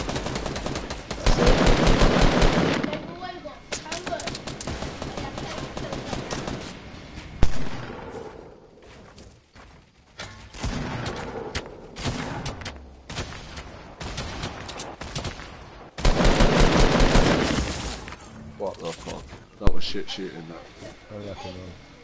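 Gunfire in a video game, in loud bursts of rapid shots between quieter gaps, with voices talking throughout.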